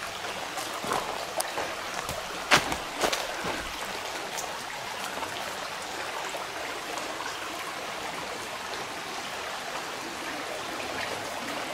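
Creek water running under an old mill in the Silver City ghost town, Idaho, a steady broadband rush and trickle with a few brief knocks early on, continuous and moderately close.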